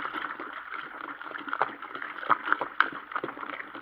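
Dry yeast being stirred into beer wort for a lager on brewing day, giving a soft continuous sloshing and swirling of liquid close by, with a few small knocks of the spoon against the vessel.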